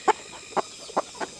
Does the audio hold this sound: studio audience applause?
no